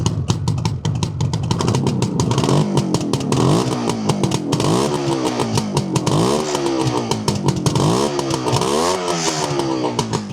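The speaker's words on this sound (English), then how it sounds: "And a nice burble from the exhaust." A 1976 Suzuki GT750A two-stroke triple idles and blips its throttle, the exhaust burbling steadily with repeated rising and falling rev swells, loud and close throughout with no talking.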